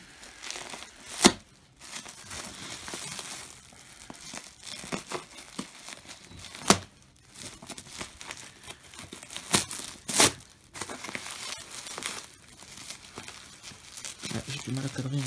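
Plastic packaging crinkles and tears in irregular bursts as airsoft guns, a CM 506 and a G1911B, are unboxed; the rustling is close, with sharp louder crackles scattered through the clip.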